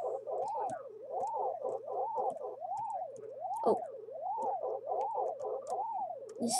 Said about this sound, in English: the static sounds on the screen.